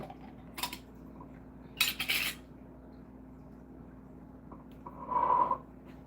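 A lid comes off a jar of steeped homemade natural bug spray, with a few short clinking, scraping bursts and a final louder twist-and-pop near the end, close by in a quiet room.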